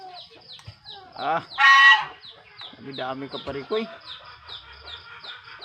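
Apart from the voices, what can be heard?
geese on a farm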